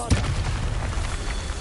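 A Bombarda spell explodes in a Harry Potter video game with a deep booming blast and rumbling crackle that rolls on continuously, loud and close with no voices over it.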